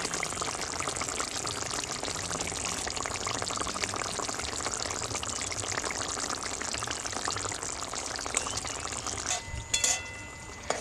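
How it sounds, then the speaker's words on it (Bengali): Pabda fish going into a simmering mustard gravy in a pan, giving a steady, even sizzle and bubbling that runs throughout, with a few faint clinks near the end. "আমি এতে মাছগুলো দিয়ে দেবো।"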